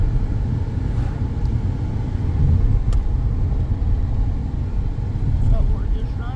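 A car drives along a road toward a small supercell storm in Serbia, its steady low engine and road rumble filling the cabin at a constant, fairly loud level, with no one speaking.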